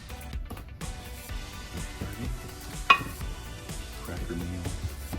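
Breaded razor clams coated in cracker meal sizzle and crackle steadily in a frying pan, with a sharp clatter partway through as they are turned.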